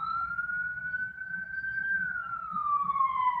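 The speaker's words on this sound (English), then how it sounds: "Sorry, ambulance." An ambulance siren passes outside, one long clear wailing tone that rises, holds and then slowly falls as it moves away, over a low background rumble.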